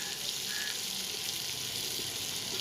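Onion and green chili fry in a pan with a steady, even sizzle and hiss, quiet and close by, and no one speaks.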